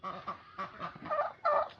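Farm ducks give a short run of loud, close, nasal quacks in quick bursts, with no talking.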